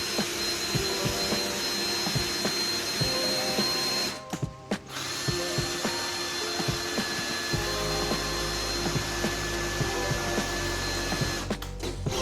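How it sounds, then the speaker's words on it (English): Power drill driving screws into a large end grain wooden butcher block, a steady whirring drone broken by short pauses and bursts, close and loud with no talking. "Anyway, let's get drilling."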